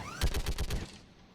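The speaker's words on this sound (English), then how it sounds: "the guns are already picking Cerberus ships out of the sky" Mounted anti-aircraft guns firing at Cerberus ships in the game Mass Effect 3; a short rapid burst of about six heavy booming shots in quick succession, fairly close, then the sound fades out with no talk.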